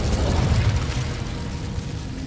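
An Incendio fire spell cast in Hogwarts Legacy produces a loud, continuous whooshing roar of flame with crackling texture, steady for about two seconds before slightly easing off.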